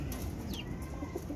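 A silver male pigeon coos softly at close range, a low murmuring call against faint background noise.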